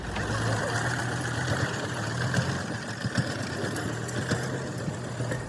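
Tractor engine running steadily at a low, rumbling idle in a farm field, close and continuous with slight knocking pulses throughout.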